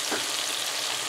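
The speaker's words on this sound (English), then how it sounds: "we're gonna let our curry paste cook for the 2 minutes as usual" Curry paste fries in a pan with a steady, close sizzle, a constant crackling hiss that stays even and loud throughout.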